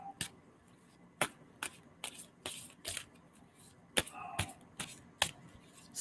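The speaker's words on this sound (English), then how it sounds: "I'm going to stop shuffling the cards." Tarot cards being shuffled by hand, a series of sharp riffle snaps and soft slides recurring roughly every second, close and quiet in a calm room.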